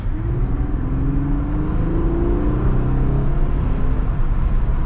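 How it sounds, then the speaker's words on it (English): A 2019 Lexus IS 300 engine pulls steadily under acceleration, its rising hum climbing in pitch over a low continuous rumble, close and loud. "So the acceleration is adequate, and there's a good sound."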